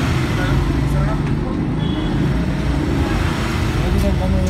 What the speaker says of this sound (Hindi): सो गाइज हमने अभी गाड़ी स्टार्ट कर दी